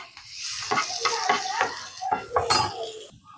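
Chopped onion goes into a pan of hot oil with garlic and ginger, bringing repeated spoon scrapes and metallic clinks against the pan over a low sizzle, heard up close.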